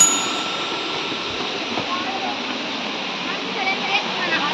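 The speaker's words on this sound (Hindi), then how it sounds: "यहाँ मस्त झरना निकला थे, गिरा थे।" Steady rushing roar of the Durga Dhara waterfall at Amarkantak, a continuous broadband wash of falling water heard from nearby and fairly loud, unbroken throughout.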